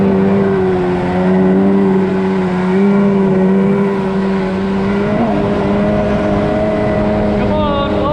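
Sea-Doo XP DI jet ski engine running at steady high revs, a loud continuous droning hum close by with only slight changes in pitch, held throughout to clean the spark plugs.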